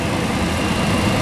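An auxiliary power unit runs on an MD-10 aircraft, a steady, loud, continuous engine drone with a low rumble and broad whine, alone with no talk.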